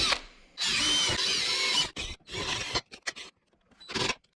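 Power drill fitted with a small bit boring into a Jeep Cherokee pillar pod light mount, whining in several bursts of differing length with short pauses between, close and fairly loud with no talk.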